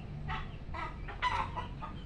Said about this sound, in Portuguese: Aí já tem galinha aqui de baixo querendo botar, gente, ó.